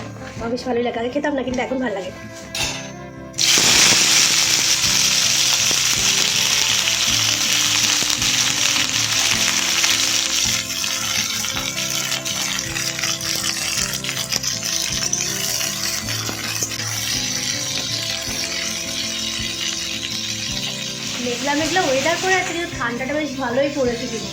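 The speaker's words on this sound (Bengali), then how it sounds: "শিম ভাজা খেতে কাকে ভালো লাগে" Flat beans hit a hot pan after a mustard-seed tempering and fry with a loud, continuous sizzle that holds steady to the end, with a brief quieter pause near the start and faint voices in the background.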